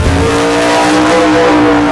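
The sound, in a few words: car doing a drag racing run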